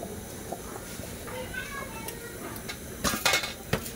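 A quick biryani of rice and lentils being stirred in a cooking pot in a home kitchen, with a spoon scraping and clinking against metal in scattered knocks, growing louder toward the end, with voices faintly in the background.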